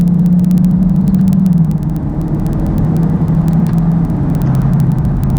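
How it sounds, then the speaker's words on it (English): 2016 Dodge Charger Scat Pack with an 8-speed automatic, engine humming steadily from inside the cabin, dipping and picking up again through a downshift, with a faint rapid ticking throughout and no speech. "Give it a downshift."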